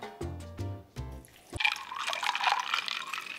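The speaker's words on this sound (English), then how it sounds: "We're now gonna pour in half a cup." Liquid poured into a cup while making chocolate bubble tea, a steady splashing pour that follows a few thumps and clatters and runs loud to the end.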